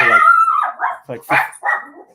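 Dog barking and howling in the background while a person talks over it, the dog's voice drawn out and loud at first, then shorter bursts mixed with speech.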